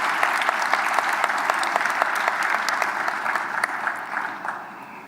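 An audience at a local government election results event applauds the CEO, dense steady clapping that stays loud and then slightly thins toward the end.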